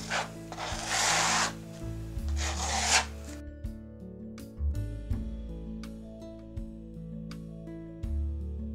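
A scrape tool drags across white acrylic paint in two or three close, rasping strokes over about three seconds, then gives way to soft background music with light taps.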